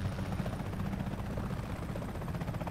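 Loud, close helicopter from the game Comanche 2020, its rotor chopping in a fast steady pulse over a continuous engine drone throughout.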